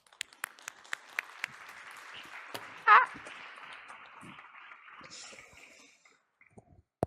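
A youth-democracy gathering breaks into faint, distant applause, a soft wash of clapping with a few sharp, isolated claps closer by, and a brief louder burst midway.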